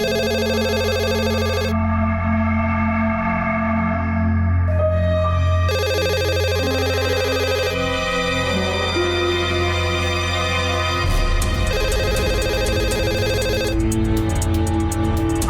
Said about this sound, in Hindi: उस दिन देर रात गोविंद का फोन आया।